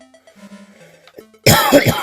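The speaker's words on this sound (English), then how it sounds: "I'm laughing myself to coughing fits." Coughing fit brought on by laughing: after a quiet stretch of faint low tones, a loud burst of harsh, rapid coughs and throat clearing fills the last half second, close to the mic.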